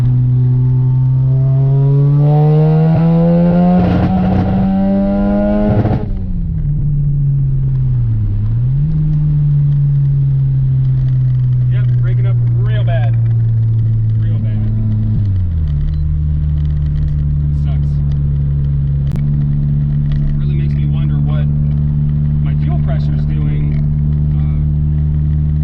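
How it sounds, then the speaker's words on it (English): Mazda FD RX-7 engine on a test drive, loud and steady, rising in pitch as it revs, dropping on shifts, then holding a constant drone while cruising. "So we're gonna go for a quick test drive once the car warms up"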